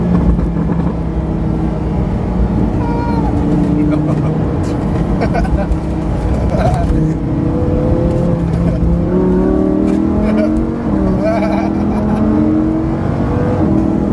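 A Lamborghini Huracan engine roars and revs close by, pitch dropping and climbing again as it downshifts and changes gears, with a steady loud drone throughout.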